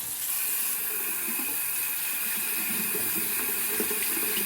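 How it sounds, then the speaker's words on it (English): Tap water runs steadily into a sink to rinse a badger-hair shaving brush, a constant close hiss and splash with no talking. "We're just going to rinse the brush out real quick"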